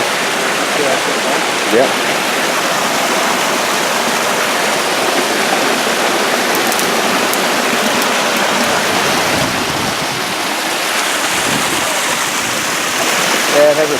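Steady broadband rush of a waterfall in an outdoor setting, loud and constant throughout, with a person briefly speaking over it.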